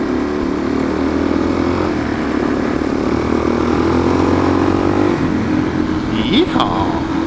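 A motorcycle engine drones steadily while riding, a close, loud hum with wind noise and a brief rev near the end, and voices talking over it.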